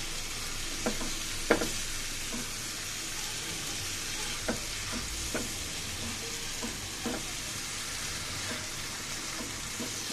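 Potatoes fry in a pan with a steady, hissing sizzle throughout, broken by occasional soft clicks and scrapes of stirring.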